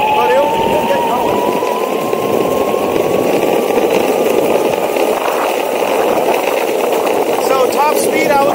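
A $100 DIY electric skateboard motor whines as it starts up slowly in full advanced mode, its pitch climbing gradually. A steady rolling rumble runs beneath it as the board gets going.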